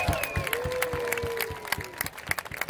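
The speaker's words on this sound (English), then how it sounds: "Give yourselves a big round of applause." Audience applause at the opening ceremonies of a pool world championship in a Las Vegas hotel, a steady wash of clapping from a large crowd with a whistle-like tone sliding through it, fairly distant and continuous.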